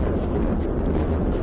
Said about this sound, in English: We hear the sound of massive amounts of explosions in the distance